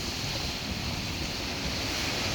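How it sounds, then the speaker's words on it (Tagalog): Rough ocean surf with high waves roars steadily with dense wind noise buffeting the microphone, a loud continuous wash of water without distinct breaks. "ang taas ng alon talaga"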